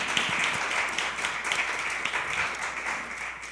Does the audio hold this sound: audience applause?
yes